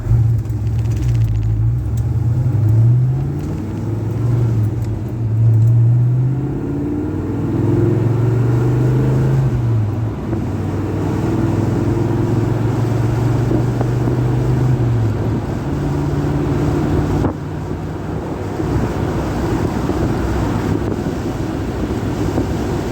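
A 1970 Plymouth Duster driving on a road, heard from inside as a loud, continuous engine rumble with rising and falling gear-shift tones and steady wind noise, with no talk.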